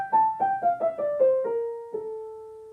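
A piano plays a descending Phrygian-mode scale, roughly eight clear single notes stepping down at an even pace, each ringing briefly. The last note sustains and fades alone.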